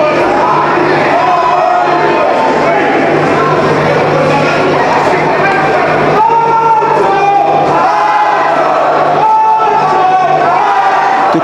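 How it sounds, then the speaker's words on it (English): A boxing crowd at a live fight night chants and roars for fighter Andy Upton, a loud, dense wall of voices with rhythmic rising shouts throughout, the chant swelling in waves, all close and constant. "The crowd still chanting for Andy Upton."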